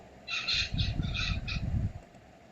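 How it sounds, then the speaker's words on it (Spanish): Small birds call in a few short, bright, squawky bursts over a low, muffled rumble, fairly close and clear with no one speaking. "Parece que son unos pajaritos que están cantando."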